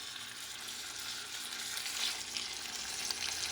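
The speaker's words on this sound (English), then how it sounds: "And I'm cooking this pork to give it some character." Pork sizzling in a pot for Puerto Rican asopao rice stew, a steady close hiss of frying with light crackles and occasional stirring, no talk.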